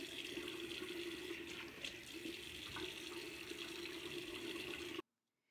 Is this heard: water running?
yes